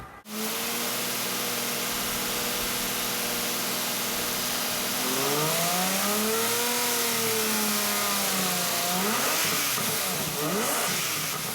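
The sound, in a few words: Lamborghini 12-cylinder engine revving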